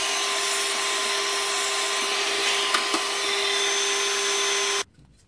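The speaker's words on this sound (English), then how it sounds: "So let's get the vacuum cleaner on and start cleaning." A vacuum cleaner sucks dust out of the inside of a desktop PC, giving a loud, steady whine with a few brief rattles before it cuts off abruptly near the end.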